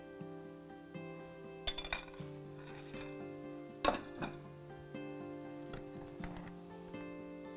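A utensil mixes wet and dry cake batter ingredients in a bowl, producing scattered light clinks and taps against the bowl in a quiet room, with a few sharper knocks.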